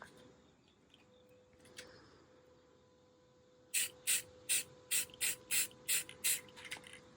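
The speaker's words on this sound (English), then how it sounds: "You do a lot of spraying, but I'm just doing very light coats" A faint background hum, then a run of short, loud hissing bursts from a spray paint can painting a lamp, about nine in quick, fairly regular succession.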